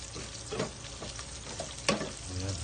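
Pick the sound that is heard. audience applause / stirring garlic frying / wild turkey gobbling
stirring garlic frying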